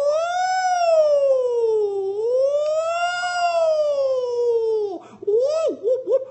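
A voice imitates a police siren with a long, steady wailing tone that rises and falls slowly, then breaks into a few short warbling sounds at the end.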